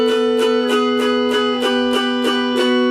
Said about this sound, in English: just doing a chromatic walk down the middle string